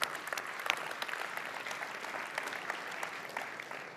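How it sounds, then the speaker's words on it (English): An audience at a Schneider Electric presentation claps for the presenters, a moderate, fairly quiet round of applause with scattered sharper claps that tapers slightly toward the end. "give a round of applause to Kim, Caspar, and Rob for a fantastic presentation"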